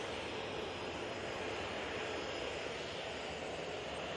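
A TUI jet departs Manchester Airport, its engines a continuous, even roar heard from a distance, unbroken for the whole short stretch.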